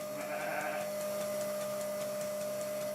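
Sheep bleat on a livestock farm in the Sardinian hinterland, one brief close bleat early on over a steady mechanical hum, with no talk.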